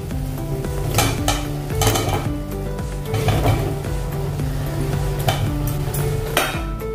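Paneer cubes going into a pan of masala for matar paneer and being stirred, with steady sizzling under repeated scraping and clinking of a spoon against metal, close and fairly loud throughout.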